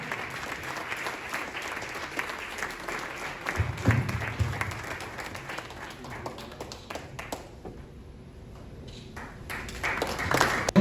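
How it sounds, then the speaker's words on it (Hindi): A crowd at a celebration for loyalty achievers at a Rajgir resort applauds in a dense, continuous patter of claps. The applause thins briefly near the end, then picks back up. "ताली नहीं रुकनी चाहिए"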